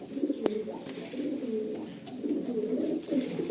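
Several pigeons coo in a loft with low, rolling calls that overlap steadily throughout, while higher chirps from other birds repeat at intervals above them.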